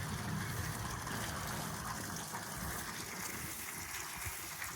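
Water runs into a cattle drinking tank, a quiet, steady gushing hiss that stays level for the whole stretch, heard from close by without talk.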